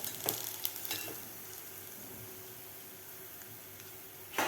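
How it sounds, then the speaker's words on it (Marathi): Corn poha flakes frying in hot oil for chivda give a soft, steady sizzle with a few sharper crackles near the start, quiet and close, with no voices. "थोडे थोडे करून आपल्याला हे पोहे तळून घ्यायचे आहेत"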